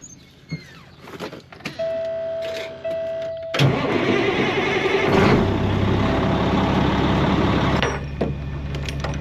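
A tracked construction machine at a concrete job site cranks over, catches and settles into a loud, steady, rumbling run up close, with a thin whine beforehand and no talking.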